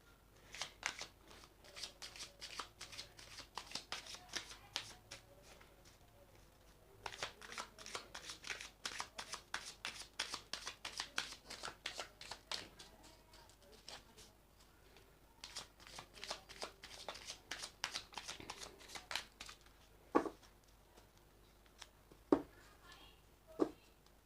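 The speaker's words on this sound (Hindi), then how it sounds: "पहले मैं शफल कर लेती हूँ।" Tarot cards are shuffled before a reading in quick riffling bursts, crisp flutters coming in three clustered runs separated by pauses, with a few sharper taps near the end, close and fairly soft.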